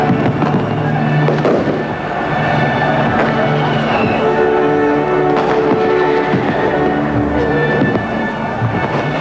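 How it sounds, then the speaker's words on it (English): Fireworks over Berlin during the German reunification celebrations of October 1990, a dense continuous barrage of bangs and crackles mixed with crowd noise and faint talk, loud and steady throughout. "millions of people celebrated the momentous event with parties and fireworks"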